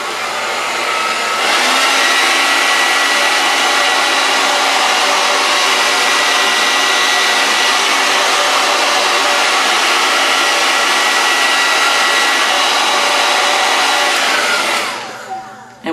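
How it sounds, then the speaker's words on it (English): A blow dryer drying hair tracks roars loudly and steadily for most of the stretch, starting abruptly and cutting off near the end. "Then you take your blow dryer"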